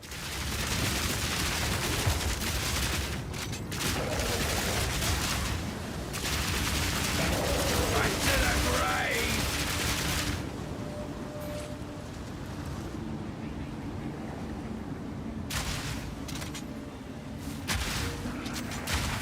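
Incendiary Shot, a shotgun skill in the video game Path of Exile, fires as a dense, loud barrage of blasts and explosive bursts that keeps going for about ten seconds, then thins to scattered shots and mechanical clanks.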